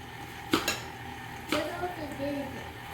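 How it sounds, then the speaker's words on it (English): A spoon stirs fruit salad in a bowl, with two sharp clinks against the dish and softer scraping and stirring after them. There is no speech. "Mix the fruit together."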